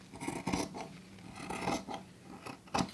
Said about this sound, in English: take your scissors and trim away that excess